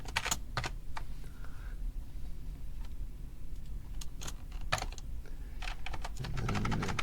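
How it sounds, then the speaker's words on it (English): Computer keyboard typing in short irregular bursts of key clicks, with pauses between and a low room hum beneath, close and fairly quiet. "let's just type it in"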